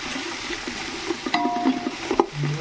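Onions, spices and vegetables frying in oil for prawn biryani, a soft steady sizzle broken by scraping and clinks of a spoon stirring against the pan, with one ringing metallic tap.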